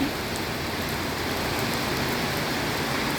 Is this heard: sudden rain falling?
yes